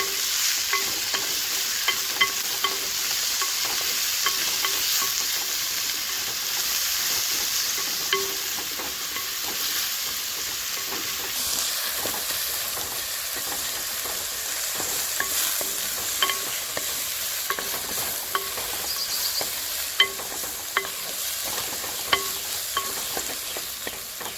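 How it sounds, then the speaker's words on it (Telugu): Gongura leaves frying in hot oil for mutton curry, a steady bright sizzle with frequent sharp pops and crackles, close and continuous, with light stirring and no voices. "ఇప్పుడు కానీ ఈ ఆకులు అనేవి ఫస్ట్ ఫ్రై అయితేనే బాగుంటుంది మనకు."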